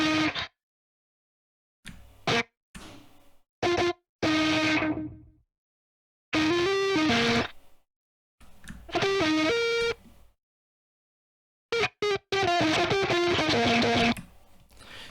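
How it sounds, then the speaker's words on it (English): Distorted vocal layers, used like an instrument in a production in Ableton Live, come in short gritty bursts and sustained chopped phrases. Silent gaps fall between the bursts, and a buzzy, processed tone runs through them. "using voices with distortion and then trying to use them kind of as an instrument"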